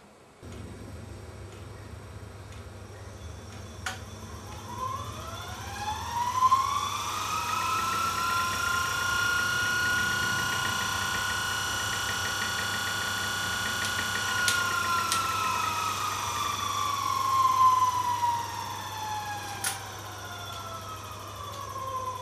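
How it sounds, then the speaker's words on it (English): A very old electric motor runs fast on 30 volts with a rising, whining tone and steady hum, then, with armature power cut, its pitch slowly glides down as it coasts, punctuated by faint ticks. "Notice the motor runs really fast in 30 volts, and when the armature power is turned off, the voltage only drops off slowly"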